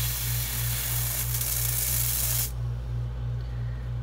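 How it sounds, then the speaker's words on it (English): Liquid foundation sprayed onto a makeup sponge in one continuous close hiss lasting about two and a half seconds, then stopping abruptly, over a low steady hum. "I'm just gonna spray it on my sponge."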